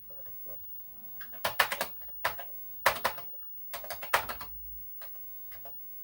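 Bursts of keystrokes on a Commodore 64 keyboard, quick clusters of clacking taps separated by short pauses, close and crisp against a quiet room.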